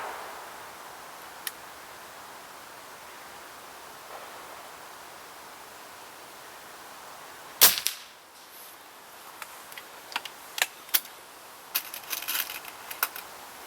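Walther LGV air rifle fired at a shooting range: one sharp crack stands out, followed by several quieter, scattered pops and ticks over a faint, steady background hiss.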